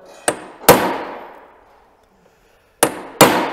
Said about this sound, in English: Center punch your hole.